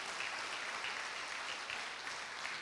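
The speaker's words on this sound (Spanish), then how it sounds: "Denle un aplauso al Señor" A church congregation claps in a faint, steady wash of applause heard from a distance, with no voices over it.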